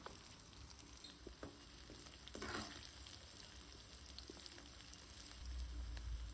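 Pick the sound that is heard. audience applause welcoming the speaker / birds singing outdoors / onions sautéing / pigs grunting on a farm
onions sautéing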